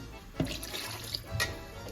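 Water from a glass is poured into chicken nihari gravy cooking in a pot, making soft splashes and a gentle trickle at close range, with no talking.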